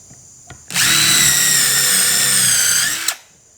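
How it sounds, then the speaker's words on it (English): A power drill boring holes into a 2x4 piece of wood, whining loudly and steadily for about two and a half seconds after a soft click, then spinning down. "And then drill your holes."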